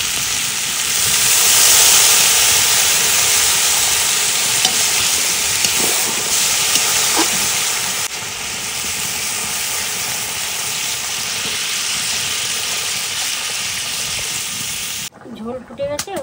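Water hits hot spiced elephant foot yam being braised for a fish curry, setting off a loud, steady steaming sizzle and hiss that fills the scene for about fifteen seconds before cutting off abruptly.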